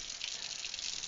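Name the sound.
warm water for whole wheat dough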